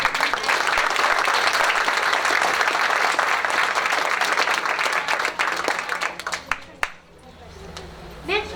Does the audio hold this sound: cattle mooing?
no